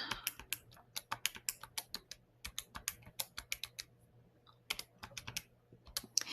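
Numbers being keyed into a calculator, close and fairly quiet: quick, crisp button taps in uneven runs with brief pauses between, over a faint steady hum and no talking.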